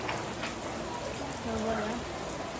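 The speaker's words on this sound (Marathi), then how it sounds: "पावळे गडाक लागले इतकं पाऊस लागतं." Heavy monsoon rain falls outdoors at a village home, a continuous even hiss of drops pattering on surfaces, with faint voices in the background.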